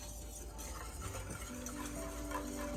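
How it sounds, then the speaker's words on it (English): A whisk stirs chocolate pie custard with milk in a pot on a stove over medium-high heat, giving a steady, soft scraping and swishing that runs continuously through the stretch with no talk. "I'm just going to keep stirring this."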